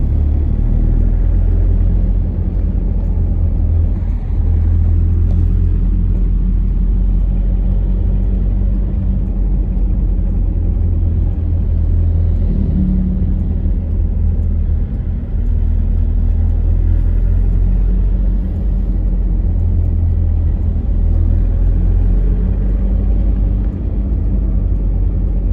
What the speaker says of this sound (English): Join me on this relaxing drive to Barangay Bua, where nature takes over and the beauty of Nueva Vizcaya reveals itself around